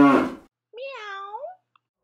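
A short human vocal sound comes first, then a single drawn-out cat meow that rises and falls over nearly a second before silence.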